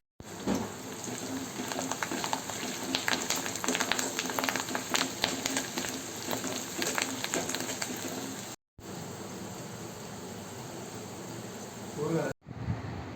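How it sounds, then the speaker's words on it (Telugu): Steady crackling sizzle of spices frying in hot oil for a tempering for mango sweet pickle, dense and continuous, cutting out briefly near the end. "తాలింపు చేసుకోవడం అంటే పోపు పెట్టుకోవడం, అది కూడా నేను చూపిస్తాను"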